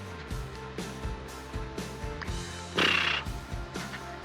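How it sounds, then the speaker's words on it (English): Horse-like whinny noise, a shrill rising neigh cutting in loud near the end after a stretch of low rhythmic humming and thumps, heard close with no talk over it. "There's that horse noise again."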